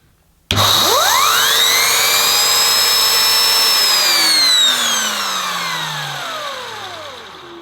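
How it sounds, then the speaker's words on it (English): A Henry vacuum cleaner's turbo brush head spins up with a sharply rising whine, holds a loud steady motorised hum for several seconds, then winds down in a falling tone that fades away. "We'll quickly show you the turbo brushes spinning."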